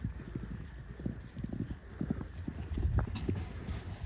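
Hooves of Tricka the horse clip-clop in an uneven walking rhythm, faint and somewhat distant, with occasional soft voices in the background.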